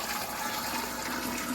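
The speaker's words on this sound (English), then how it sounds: "Now it's time to pour over our cucumbers and our crock." Room-temperature brine poured over cucumbers, fresh dill and spices in a fermenting crock, a steady close rush of liquid splashing continuously with no pauses.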